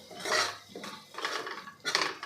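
A spoon scrapes and clinks against the pot while a spice mix of Kashmiri red chilli powder and salt is stirred for chole masala. There are three short bursts of scraping, moderately quiet and close, with no talking.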